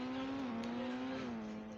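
A Bugatti car engine in the game Indian Bike Driving 3D drones with a steady, clear tone that dips slightly in pitch, fairly quiet and alone, with no talking.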